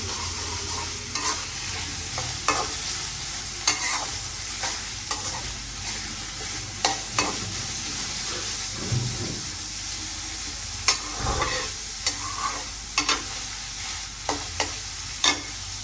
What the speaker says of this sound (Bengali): ভাজিটা চড়াই দিছি